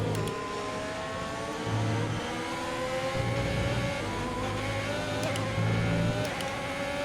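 Formula 1 race car engines from the F1 2020 game at the Bahrain Grand Prix, with a steady high-pitched whine holding throughout and small shifts in pitch as the cars run together.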